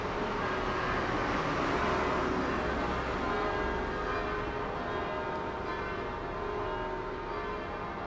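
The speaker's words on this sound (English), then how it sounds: "They're just doing that now, the bells." Church bells swinging and ringing in Old Portsmouth, a dense continuous peal of overlapping tones with a steady, fairly distant wash of sound throughout.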